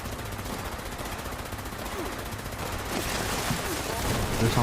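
Dense, continuous rapid gunfire during a shooting mission in a game, loud and sustained, growing heavier toward the end with faint voices mixed in.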